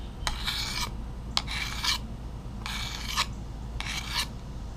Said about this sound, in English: whenever you're ready to sharpen your knife, you can actually